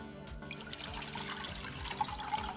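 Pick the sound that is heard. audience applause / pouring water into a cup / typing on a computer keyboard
pouring water into a cup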